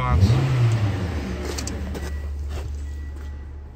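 A 2016 Toyota Corolla with a 1.8 liter engine and automatic transmission, 68,000 miles, gives a quick throttle blip that rises and falls before settling into a steady idle hum.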